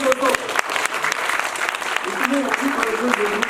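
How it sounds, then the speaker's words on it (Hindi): Theatre festival audience applauding after a play performance, sustained dense clapping throughout, loud and close with a voice faintly over it. "तालियों की कमी नहीं होनी चाहिए दोस्तों"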